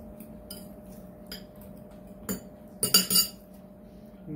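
A metal spoon clinks against a plate during a chowmein eating challenge, a few quiet taps early on, then a sharp clink near the middle and a brief louder cluster of clatters toward the end, with no one talking.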